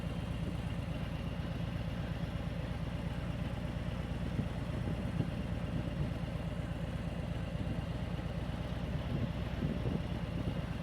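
A motorcycle with 16-inch ape hanger bars idles with no throttle, giving a steady low engine rumble with barely any chugging, constant and unchanging, with no voices.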